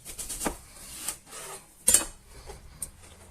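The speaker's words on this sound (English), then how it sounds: "this small to medium sized onion, I'm just going to quarter it" A knife quarters a small to medium onion on a cutting surface, giving a few soft, scattered cuts and taps close by in a quiet room.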